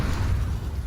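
Molotov cocktail fire burning in Counter-Strike during a BIG vs Ninjas in Pyjamas pro league match, a steady low roaring rumble throughout with no talk.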